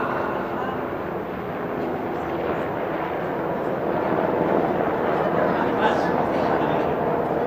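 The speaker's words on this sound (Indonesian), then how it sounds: "Helikopter." A helicopter drones steadily throughout, a loud continuous rumble under a preacher's voice during a humorous sermon on marriage.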